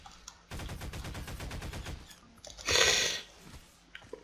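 Rapid burst of automatic gunfire in the game Garry's Mod, a fast rattling volley lasting about a second and a half, followed by a louder broad blast and scattered smaller clicks.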